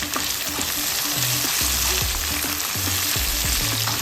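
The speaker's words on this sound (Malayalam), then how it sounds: "നല്ലപോലെ മിക്സ് ചെയ്ത് കൊടുക്കാം" Green chillies and curry leaves sizzle steadily in a hot pan while being stirred, with repeated scraping strokes of the spoon cutting through the constant frying hiss, close and fairly loud.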